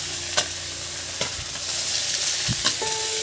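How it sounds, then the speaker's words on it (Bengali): Sliced potato pieces dropped into a pan of frying bitter gourd give a steady close sizzle, with brief stirring scrapes and clinks of a utensil against the pan. "বন্ধুরা এবার কেটে রাখা আলুগুলো এর মধ্যে আমি দিয়ে দিলাম।"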